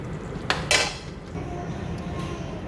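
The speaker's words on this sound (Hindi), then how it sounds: "अब इसे डिश आउट कर लेते हैं" Chicken nihari is served out of a cooking pot: two sharp metal clanks of a ladle against the pot come close together, then softer scraping and faint clinks follow.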